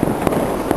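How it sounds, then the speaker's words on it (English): A firework going off in a street during Beijing's New Year celebrations bursts twice in under a second, sharp close cracks over a dense background crackle and hiss. "Random firework in the street."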